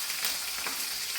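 Mustard seeds, cumin and green chilli frying in oil in an iron pan for a carrot fry, a steady close hiss and sizzle with no voices.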